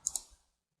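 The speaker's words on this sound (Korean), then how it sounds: "2D 스케치 시작을 클릭을 합니다." Two quick, crisp computer mouse clicks close together, close and faint, followed by a soft tail and then silence.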